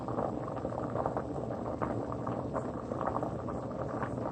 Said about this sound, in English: So to avoid it boiling over, so I leave it uncovered and monitor it during the process.